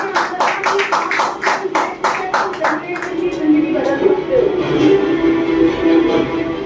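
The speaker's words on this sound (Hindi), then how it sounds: "हमारे फाउंडर दीपक ने के लिए जोरदार ताली।" A crowd at a business experience-sharing event claps loudly for founder Deepak, sharp rhythmic hand claps for about three seconds that give way to a murmur of voices and a lingering room hum.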